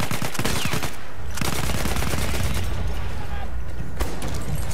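Automatic weapon fire in the World War I shooter Battlefield 1, a loud, dense stream of rapid shots with short gaps and bursts near the start, close and dominant.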